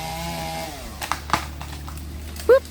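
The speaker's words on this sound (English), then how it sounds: "I love the sound of a chainsaw." A chainsaw cuts down a tree during a mobile home teardown, a steady low engine drone at the start, then scattered cracks and knocks, ending with a brief louder burst.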